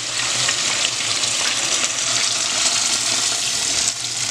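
Cooked beans for Brazilian tutu de feijão are poured into hot fat in a pan, setting off a loud, dense, continuous sizzle and bubbling up close, with no voices.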